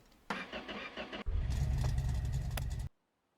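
A 1969 Dodge Charger engine being fired up after its fluids were topped off: a brief cranking whir, then the engine catches and roars loudly at close range for a second or two before cutting off abruptly.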